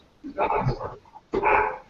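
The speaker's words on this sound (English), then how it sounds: "Whose dog is barking?" A pet dog barks indoors during an online gathering, giving a couple of short, muffled barks with a gap between them, heard faintly in the background.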